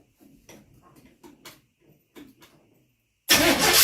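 A 1955 Chevy Bel Air engine with no fuel hooked up is cranked after wiring, giving a few quiet irregular clicks and thumps before a sudden loud burst of broadband noise at the end.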